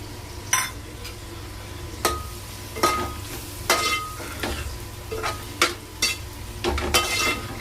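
Capsicum bhaji with peanut powder being stirred in a pan, a soft steady sizzle under regular spoon scrapes and knocks against the metal, close and alone.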